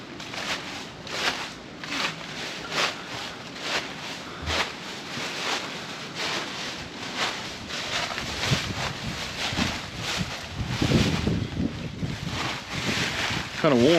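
Gusty wind buffeting the microphone on a hiking trail, a constant rushing roar that swells and fades, loud and close, with people talking throughout.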